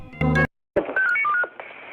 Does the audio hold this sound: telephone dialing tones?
yes